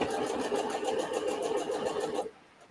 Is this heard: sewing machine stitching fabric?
yes